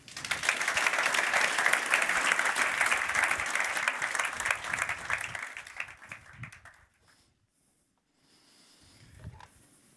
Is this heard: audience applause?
yes